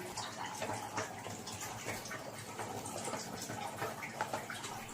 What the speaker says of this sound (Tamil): தேங்காய் பால் அப்படியே ஊற்றிட்டு அப்படியே ஒரு கிண்டி விடணும்